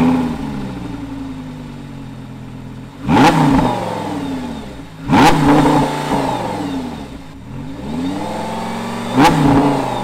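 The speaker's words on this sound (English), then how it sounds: "And this is how it sounds." A Lamborghini Gallardo LP560-4 engine idles, then is revved hard four times in separate loud bursts that each rise and fall back toward a steady idle. It is heard close up and clear, with no talk.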